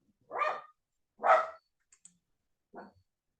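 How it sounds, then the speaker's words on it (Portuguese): A dog barks three times at a relaxed pace, clear and fairly near against quiet, with a couple of faint clicks between barks. "Cachorro."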